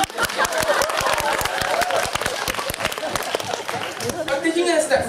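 Audience clapping at a debate competition speech: a dense burst of many hands clapping, steady and fairly loud for most of the clip, thinning near the end as crowd noise and voices carry over.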